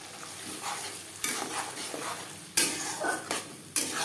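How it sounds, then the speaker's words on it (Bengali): Spoon scraping and stirring tomato paste with chickpeas and coconut in a pan, a soft sizzle underneath and several sharper clanks against the pan in uneven strokes. "ছোলা ও নারকেলের সাথে টমেটো বেশ ভালো করে মিক্সড করে দেব"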